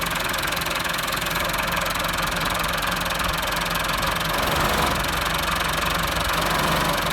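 A steady, loud diesel engine of a new Massey Ferguson 385 tractor with PTO gear engaged chugs and knocks continuously, a dense mechanical drone with no pauses.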